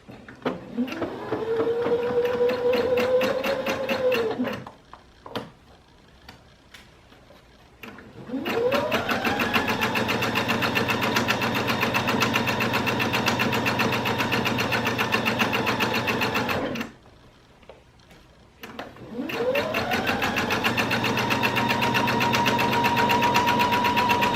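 A sewing machine runs a straight stitch along the seam allowance of a bench cushion, whirring up to a steady hum in three long runs separated by brief pauses, loud and close.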